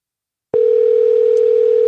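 A Google Voice call connecting tone: after half a second of silence, a single steady, loud electronic tone starts abruptly and holds unbroken to the end.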